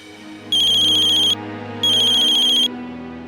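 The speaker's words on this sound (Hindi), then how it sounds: "डिस्ट्रीब्यूटर एसोसिएशन के चेयरमैन का फोन है" An incoming call sets a phone ringtone going: two loud, even electronic bursts of about a second each with a short gap between them, close and alone without speech.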